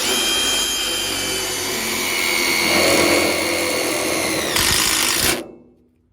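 A power driver spins screws into Simpson angle brackets on a wooden deck build, its steady whining motor running loud and close for about five seconds before winding down and cutting off.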